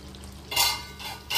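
A spoon stirs chicken curry in a pan, making two or three close scraping, sizzling swishes in short bursts. A soft hum lies underneath, and no one speaks.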